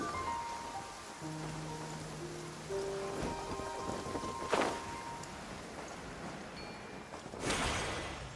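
A rain downpour in Genshin Impact, a steady wash of falling rain with soft game tones and a few sharper bursts layered over it.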